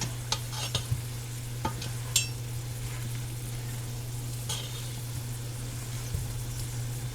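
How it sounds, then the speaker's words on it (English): Canned corned beef and cabbage are stirred in a pot, giving a soft low sizzle under a constant hum, with a few sharp clinks and scrapes of the utensil against the metal. "And then we will stir it up."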